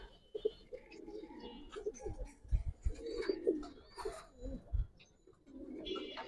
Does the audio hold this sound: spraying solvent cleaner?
no